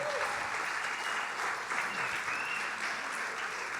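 Steady applause from an audience at a religious talk, continuous clapping at a moderate distance with no voices standing out.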